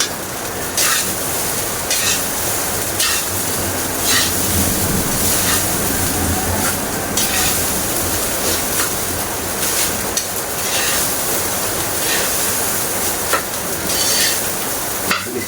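Sinangag, Filipino garlic fried rice, sizzling and being stirred in a pan, a loud, steady frying hiss with scraping strokes throughout, no talk over it.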